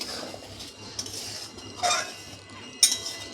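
A tamarind rice and prawn paste dish is stirred in a pan, with a utensil clinking and scraping against the metal in a few sharp knocks among quieter rustling, and no voices.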